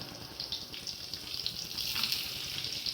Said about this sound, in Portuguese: Vou fritar agora, vou botar aqui a costelinha para fritar